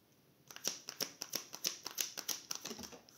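Tarot cards being handled and drawn: a quick run of a dozen or so crisp snapping flicks in even rhythm, close and fairly loud, with no talking.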